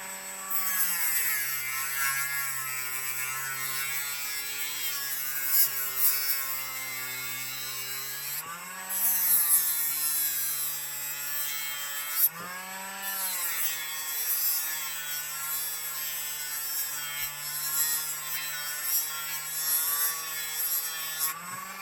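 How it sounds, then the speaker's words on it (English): Dremel rotary tool sanding and shaping a wooden model wing: a steady high-pitched motor whine with a rasping, sawing texture, its pitch dipping slightly where the bit bears into the wood, continuing for about twenty seconds. "just take a Dremel here."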